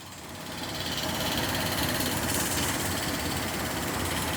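A car engine idles with a steady, even rumble that swells in at the start and then holds, close and fairly loud.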